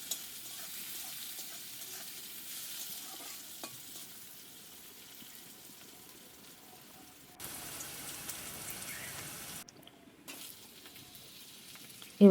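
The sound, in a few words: onion frying lightly in oil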